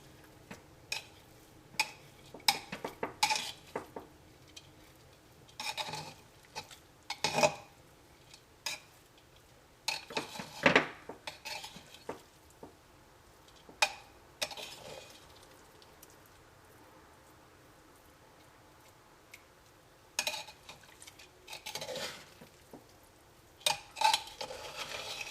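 Chicken biryani being mixed inside a pressure cooker, with repeated metal spoon scrapes and clinks against the pot in irregular bursts, fairly close and with no talking.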